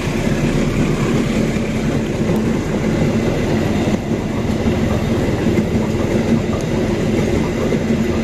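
Cikuray passenger train, hauled by a locomotive on the Garut–Cikampek line, heard from inside an economy carriage: a loud, steady rumble with continuous rail clatter throughout and no talking.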